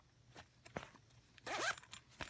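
Zipper on a flamingo pencil pouch from a back-to-school supply haul, heard as a quick, close ratcheting zip of about a quarter second, preceded by faint handling rustles and a soft tap at the end.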